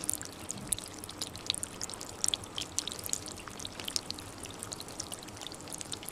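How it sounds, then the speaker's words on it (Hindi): Heavy torrential rain pours through the night in Ratangarh, a dense steady patter and splash of drops with scattered sharper hits, moderately quiet and continuous, with no voices. "तो इस तरह से पूरी रात पानी बरसा।"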